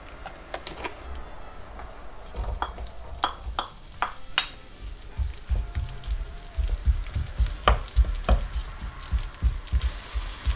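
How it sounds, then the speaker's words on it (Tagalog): Chopped onion and garlic sizzle in hot oil in a pan, a bright steady crackle broken by sharp clicks and scraping stirs, close and fairly loud with no talking. "Let's put oil to saute our onion and garlic."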